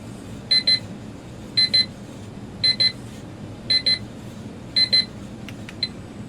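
A large digital clock's countdown timer goes off with five evenly spaced pairs of sharp high beeps about a second apart, clear above a quiet room hiss.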